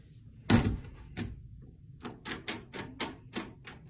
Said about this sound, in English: That little knob right there will hit the wall and lock.